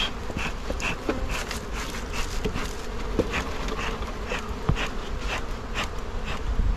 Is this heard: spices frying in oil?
no